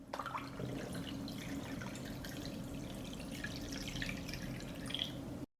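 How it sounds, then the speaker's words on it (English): Water is poured into a saucepan holding glass jars set on a cloth, a faint, steady trickling and splashing that continues for several seconds with no talking. "I pour water up to the height of the lid."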